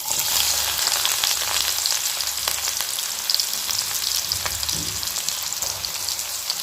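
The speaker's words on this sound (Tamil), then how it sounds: "இப்போ நம்ம இதில் நறுக்கி வச்சுருக்க வெங்காயத்தை சேர்த்துக்கிடலாம்." Chopped onions frying in hot oil for a dried-fish dish, a steady loud sizzle with crackling pops throughout, no voices.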